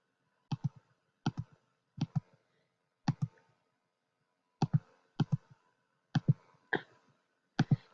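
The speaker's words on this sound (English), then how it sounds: "I'll just come in here into my calculator, and I'll just type in the number" Calculator keys pressed one at a time, eight crisp, close plastic clicks in an uneven rhythm with short pauses, in a quiet room with no talk.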